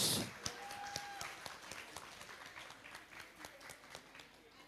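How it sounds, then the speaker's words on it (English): Audience at a university guest lecture and cultural exchange applauds, a moderate, fairly even patter of clapping that starts with a louder onset and gradually thins out. "Please give a big applause."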